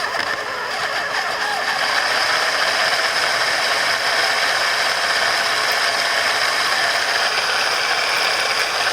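An Onson vacuum's head brush turns while a stripped plastic part clicks rapidly and continuously, giving a loud, steady ratcheting rattle over the motor whine with no speech.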